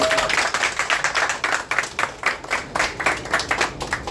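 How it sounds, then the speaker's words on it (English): Audience applause after a water and sanitation presentation at a rural development centre, a small group clapping in uneven, distinct claps that pulse throughout, fairly close and without talk. "A big round of applause."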